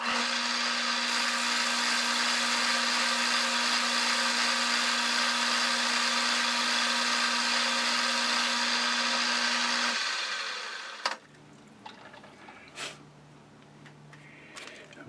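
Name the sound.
metal lathe taking a facing pass cut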